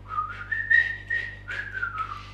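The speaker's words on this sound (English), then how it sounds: "come on everybody and whistle a tune right now" Someone whistles a bright, wavering melody in a series of short phrases with brief pauses, close by and moderately loud, with no talking.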